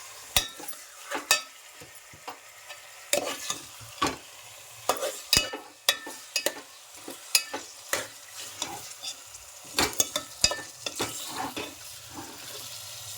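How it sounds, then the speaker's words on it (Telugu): Mutton being stirred in a hot pan over softened onions, with scraping and clattering strokes at an irregular pace over a steady sizzle, close up. "ఇప్పుడు మటన్ వేసుకోవాలి తిప్పుకోవాలి"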